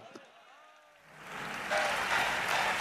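Applause swells from a live crowd at a Hindi comedy poetry event as the poet Jani Bairagi is called up, starting faint behind a voice and growing into a full, loud roar of clapping.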